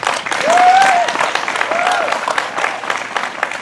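Audience applause and cheering for an elderly couple arriving at a family party, a dense, loud wash of clapping with a shrill whistle or cheer rising above it, sustained throughout.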